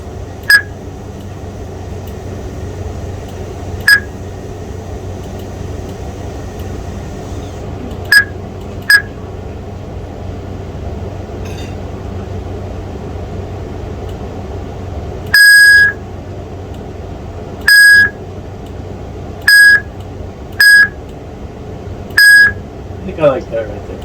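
Computer beeps from the Amithlon sound settings ring out one at a time: short, sharp tones repeated at irregular intervals over a faint background hum, with a few louder, longer beeps in the second half.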